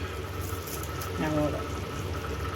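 A pot of tamarind curry with okra bubbles and simmers at a steady low rumble, with a voice briefly audible over the cooking sounds partway through.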